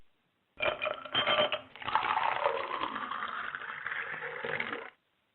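A telephone rings in a long, buzzy electronic tone after a few short bursts, heard through a phone line, with no talking.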